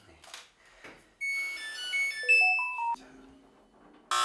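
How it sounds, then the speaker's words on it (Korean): An electronic alarm at a Korean eel farm blares a loud melodic sequence of stepped tones that cuts off and then restarts, after some quieter rustling. "집안이 떠나가라고 울리는 알람음."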